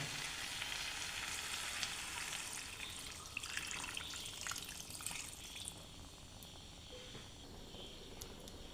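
Water is poured into thick, well-cooked Chettinad chicken curry in a hot pan, setting off a steady loud sizzle and bubbling hiss that fades slightly toward the end, with no voices.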